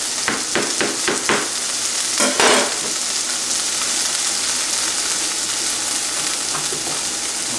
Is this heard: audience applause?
no